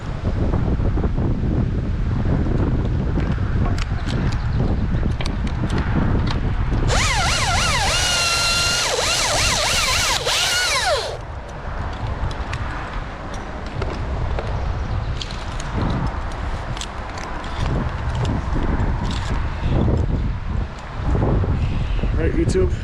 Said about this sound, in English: Wish the wind would stop for a couple of minutes right here at the top of this tree.